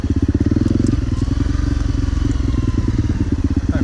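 Honda CRF 250L dirt bike engine revving hard and steady on a wooded off-road hill climb, a loud close pulsing thrum with slight throttle dips throughout.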